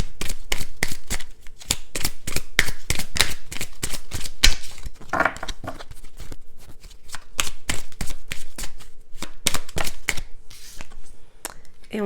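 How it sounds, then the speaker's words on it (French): Tarot cards are shuffled and drawn in a quick, steady run of crisp riffling slaps and snaps, close and clear, with a brief pause partway through and a faint voice underneath. "Je vais prendre une autre carte."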